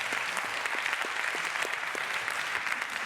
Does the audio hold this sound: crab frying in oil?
no